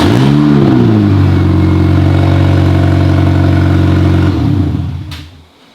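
A supercharged Mini Cooper S engine with a broken exhaust flexi roars loud and close, holding a steady, rough drone for several seconds before the revs drop away and the engine cuts off.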